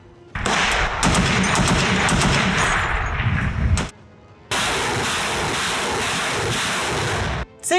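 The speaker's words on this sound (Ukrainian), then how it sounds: "Артилерія б'є, не припиняючи." Artillery and gunfire from combat around Bakhmut make loud, dense bursts of fire and blasts that roar for several seconds, stop briefly, then resume at full strength, with a gusty rumble under them.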